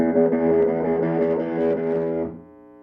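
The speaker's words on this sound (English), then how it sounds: "The more gain you add, the dirtier the tone will get." An electric guitar played through an amp on its overdrive channel with high gain rings out as a thick, distorted sustained chord, holding for about two seconds before abruptly cutting off to a faint tail.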